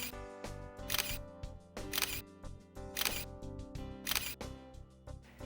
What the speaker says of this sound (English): In this mode, the camera will shoot multiple pictures per second.